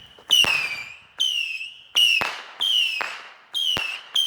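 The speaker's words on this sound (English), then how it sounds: "We about to light some fireworks." A 100-round fireworks cake set off outdoors, firing a rapid series of six sharp whistling launches with loud cracks, each tailing off before the next, close and powerful.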